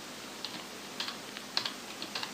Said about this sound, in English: if you hold Ctrl and Shift down and use any of the keyboard shortcuts that I've just shown you